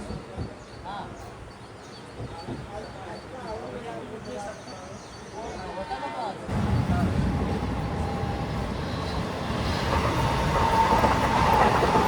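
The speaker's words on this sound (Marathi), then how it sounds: "Fast train is passing." A fast express train rushes past a platform at Thakurli station, its rumble swelling suddenly midway and staying loud and broad to the end, with faint station sounds and birds earlier.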